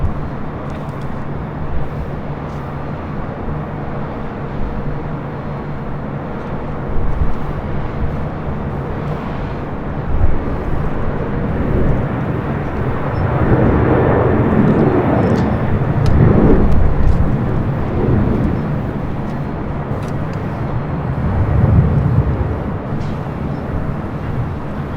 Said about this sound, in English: Delta Airlines Flight 736 coming up from Austin, Texas. And A319 is the next arrival.